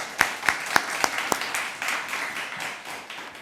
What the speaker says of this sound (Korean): 우리 하나님께 또 박수로 영광을 올려드리겠습니다